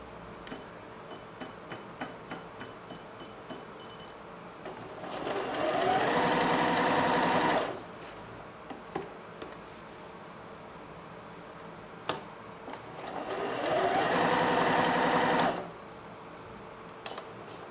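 A Janome 760 sewing machine shifts its needle from side to side, a soft ticking followed by two sustained whirring motor bursts of a few seconds each, separated by quiet clicks, close and moderately faint, with no talking.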